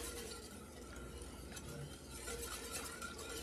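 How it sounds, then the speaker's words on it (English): Ingredients are whisked in a bowl with a steady, rapid scraping and stirring, and faint clinks of a utensil against the bowl run throughout at close range. "And you're gonna whisk it."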